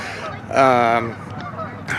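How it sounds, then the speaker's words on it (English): Geese honk once, loud and close, in a park before sunset, a single drawn-out call rising over a quiet outdoor hush, with a faint second call near the end. "You might be hearing the geese in the background"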